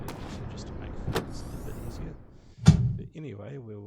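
Helicopter door in Microsoft Flight Simulator 2024 being opened and shut, giving a couple of solid thunks and a sharp slam, with a voice talking over parts of it.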